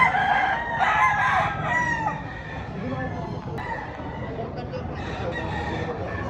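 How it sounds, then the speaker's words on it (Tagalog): Roosters and gamefowl stags crowing and clucking close by at a game farm, with several overlapping calls and people talking underneath throughout. "Mga ganda manok"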